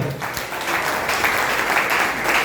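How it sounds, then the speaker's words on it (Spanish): A church congregation claps steadily and fairly close for a couple of seconds, a dense patter of hands without talk. "Dale un aplauso a Cristo."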